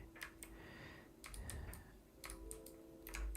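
A computer keyboard clatters in short, irregular bursts of crisp key clicks, quiet and close during a coding session, with no one talking.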